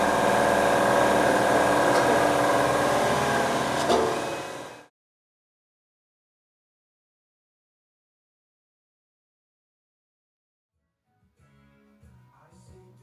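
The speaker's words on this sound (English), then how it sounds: "excuse the noise of the compressor in the background there." An air compressor runs in a workshop with a steady mechanical drone for a few seconds, then cuts off abruptly into silence before faint sounds return.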